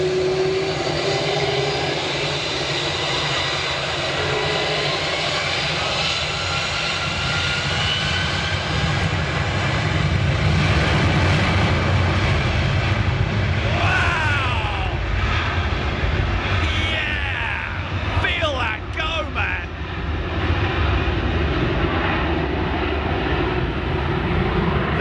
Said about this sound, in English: There's nothing like an A330 for literally shaking the foundations.